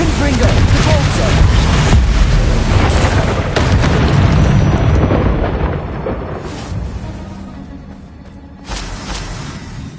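Spell blasts from Hogwarts Legacy, Confringo and Depulso, land as loud, dense booming bursts that rumble on for several seconds, fade, then flare again in a final blast.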